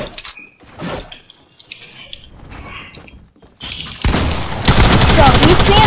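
Gunfire in the Fortnite video game starts as scattered shots and builds into loud, continuous rapid firing, with talk mixed in under the shooting.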